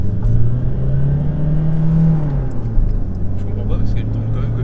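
A Peugeot 307 car engine idles and runs with a steady low drone and a slight rise in pitch midway, heard from inside the car.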